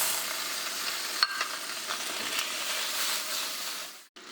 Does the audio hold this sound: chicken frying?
yes